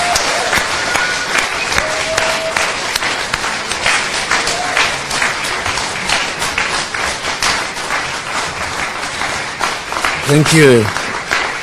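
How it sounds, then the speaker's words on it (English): A large audience welcoming a professor to a lecture breaks into loud, sustained applause with dense clapping throughout and a brief warbling cry near the end, while a single voice briefly speaks over it. "with thunderous applause and vigelegele, please join me in welcoming our guest"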